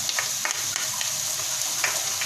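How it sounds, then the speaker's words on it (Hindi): Onions frying in a pan as ginger goes in for a spicy chicken biryani, a steady close hiss and sizzle with a few soft stirring scrapes and no talk. "प्याज को गोल्डन ब्राउन होने तक फ्राई करेंगे।"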